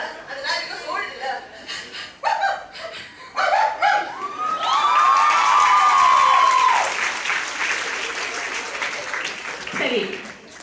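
A voice mimics a happy dog, with rapid breathy panting and yelping bark-like bursts, loud and close, and audience applause and laughter swell in the middle.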